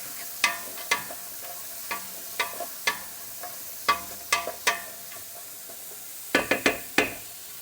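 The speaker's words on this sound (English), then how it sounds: "I'm just going to take a wooden spoon here and give that a stir so we don't burn anything" A wooden spoon stirs sauce in a pot while preparing Sunday sauce for lasagna, giving scattered clacks and scrapes against the pot, with a quick cluster of knocks near the end, close and fairly quiet.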